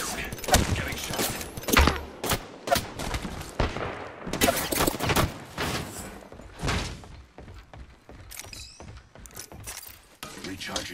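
Gunfire in Apex Legends during an endgame fight, with repeated sharp bursts and volleys of shots, some thudding impacts, mixed with game voice lines and speech throughout.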